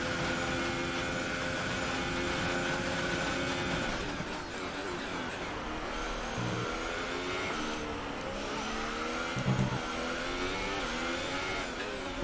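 Formula 1 race car engines in the F1 2018 video game at Abu Dhabi, a loud sustained high-revving whine with gear shifts and shifting pitch as cars battle for position, continuous and close.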